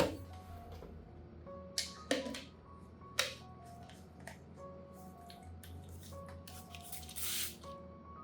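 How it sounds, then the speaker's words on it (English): A spray bottle gives several short, sharp spritzes misting orchid leaves with diluted onion solution at irregular intervals, with a quiet background hum and small clicks between bursts. "Pour the solution into a spray bottle and thoroughly mist the top and underside of the leaves."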